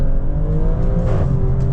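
A 2025 Maserati Grecale Trofeo's engine pulls hard under acceleration, a steady, loud droning hum heard from inside the car.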